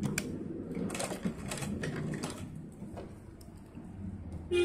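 A sewing machine stitches over a lace border on a small doll dress, its needle chattering in quick bursts with short pauses between runs, close and fairly loud with no voices.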